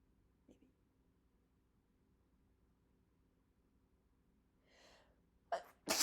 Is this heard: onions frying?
no